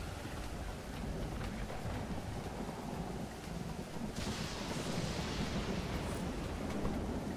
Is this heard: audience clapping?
no